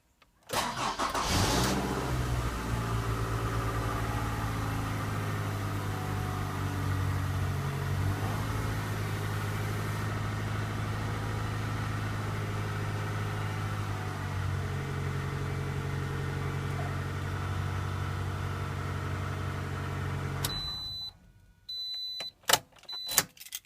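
A 2010 Toyota RAV4 engine idles steadily after a cold start in freezing weather, a loud, even hum close by that runs about twenty seconds and then cuts off, leaving a few faint clicks and beeps.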